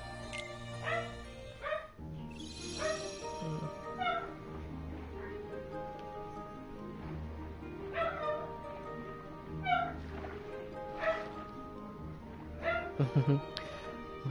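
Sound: dog barking and whimpering

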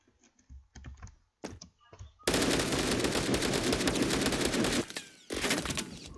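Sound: gunfire in the video game Phantom Forces

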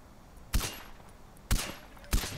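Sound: rifle gunfire in Far Cry video game

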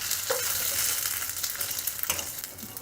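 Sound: rice being roasted and stirred in ghee

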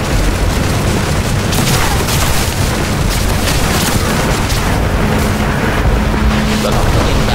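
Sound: guns and rockets hitting targets in DCS video game

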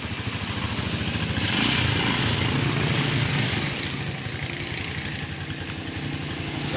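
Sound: Rusi 175 motorcycle engine running after starting

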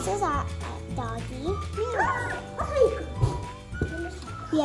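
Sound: dog

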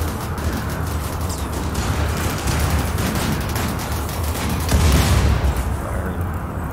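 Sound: colonists firing guns in RimWorld video game

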